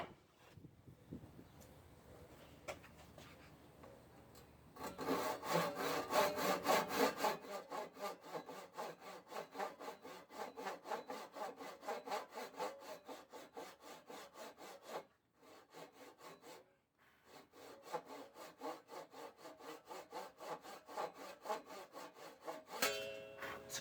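Hand saw cutting wood for a knife block, a steady rhythmic rasp of push-and-pull strokes, close and fairly loud, with brief pauses midway and near the end.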